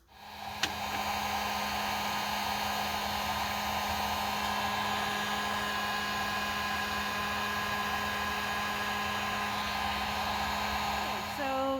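A heat gun roars continuously at close range while shrinking heat shrink tubing over a crimped wire connection, a steady loud whirring blow with a faint tonal whine, no speech.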